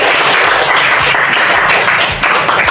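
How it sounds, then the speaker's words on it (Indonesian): A class of children applauding after a prayer in a classroom lesson, loud dense clapping with scattered individual hand strikes and thumps, steady throughout. "Tepuk tangan buat kita."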